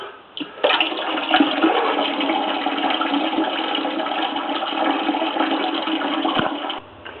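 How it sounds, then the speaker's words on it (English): Hot water gushing steadily from a tap into a pot, loud and continuous for several seconds before abruptly shutting off. "I fill this up with hot water."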